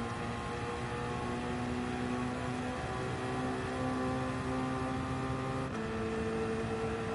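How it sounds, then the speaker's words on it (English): A Toyota V8 turbo race car engine in Gran Turismo 7 drones continuously, with steady harmonic tones that shift pitch as the revs change, including a gear change near the end. "Loving the engine sound of the V8 turbo engine of the Toyota."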